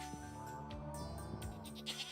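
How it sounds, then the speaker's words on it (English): Sheep in the video game Stardew Valley give several short, faint bleats over a soft, steady game tune. "We haven't even seen our new sheep in here."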